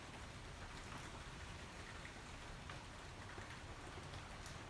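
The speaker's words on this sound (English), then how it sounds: "it's raining pretty hard right now" Heavy, windy rain heard from inside a shed makes a faint, steady, dense hiss of drops drumming on the roof that continues throughout with no talking.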